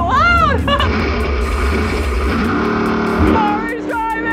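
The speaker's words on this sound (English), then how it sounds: "The engine is so loud!" A loud car engine drones steadily through the clip while excited voices shout and talk over it.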